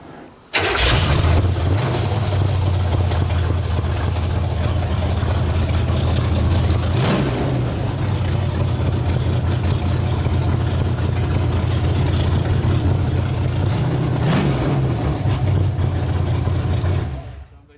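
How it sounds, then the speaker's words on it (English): An old Dodge truck with its muffler removed cranks and fires up, then settles into a loud, rough, steady idle close by for over fifteen seconds, with a couple of brief revs before it cuts off. "This is my old Dodge truck with a muffler off of it."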